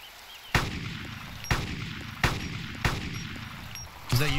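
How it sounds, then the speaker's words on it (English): Gunshots ring out in Arma 2: DayZ Mod, four or five sharp distant reports spaced about a second apart over low rumbling ambience. "Is that you shooting?"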